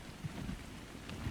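Rain falls on a mountain at night in the video game ARK Survival Evolved, a steady low hiss and rumble with wind-like noise throughout and faint soft thumps, heard alone.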